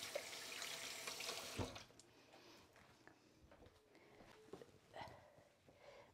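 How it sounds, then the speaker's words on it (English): A sink tap runs as hands get a quick rinse, a close watery rush that stops after about a second and a half, followed by faint dripping, handling clatter and soft sniffing sounds. "I'm just going to wash my hands again. Just give them a quick rinse."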